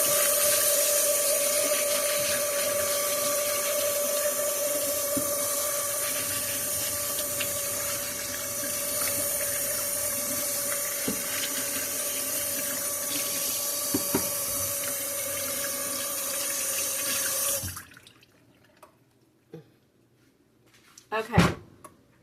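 Steady running water from a kitchen sink tap as a spaghetti squash is washed and scrubbed with a food scrubber, a continuous close rush that stops abruptly near the end, followed by a few sharp handling knocks.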